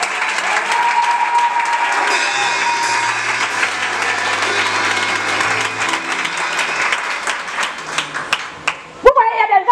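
Church congregation applauding during an evangelical Sunday service, a steady dense wash of clapping that holds throughout before breaking up into scattered claps near the end.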